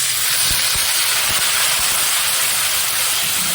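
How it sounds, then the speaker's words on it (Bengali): Spice paste of turmeric, cumin and coriander powder with ginger paste hits hot oil for a fish-head muri ghonto, giving a loud, close, continuous hissing sizzle with a few soft knocks underneath. "এবার আমি মশলাটা ঢেলে দেবো।"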